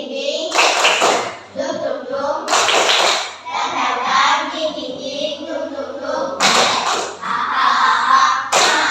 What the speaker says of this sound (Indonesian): nanti kamu mulai tepuk tangan